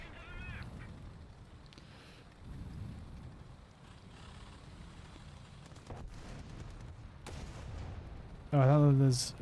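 A tank cannon fires in the War Thunder video game, with a couple of sharp booms over a low engine rumble, then a loud tonal blare near the end.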